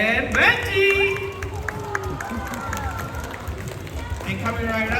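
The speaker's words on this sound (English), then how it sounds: "How about a huge round of applause for Miss Katie!" An audience claps and cheers at a zoo animal show in Singapore's rainforest zoo, with a lively crowd swell at the start that eases into lighter applause under an amplified announcer's voice.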